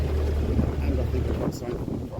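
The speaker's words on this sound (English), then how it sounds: "the wind has pushed me right over" Steady wind roars across the microphone on a canal narrowboat crossing a wide pound, a dense continuous rumble with no clear breaks.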